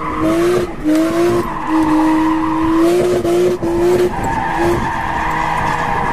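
A Mazda RX-8 engine revs hard under a long, wavering tire squeal while drifting, with the pitch rising and falling as the car slides.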